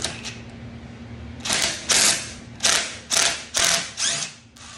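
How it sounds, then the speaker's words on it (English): A DeWalt power tool breaks studs loose in a home garage, firing about five short, sharp mechanical bursts in quick succession, close and loud after a quiet moment. "a little DeWalt power to speed it up for me. Oh yeah, break them studs right out of there."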